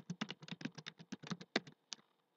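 Rapid keystrokes on a computer keyboard while VBA code is entered, a quick uneven burst of close, crisp clicks that trails off into a few final taps.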